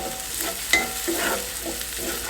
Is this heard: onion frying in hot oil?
yes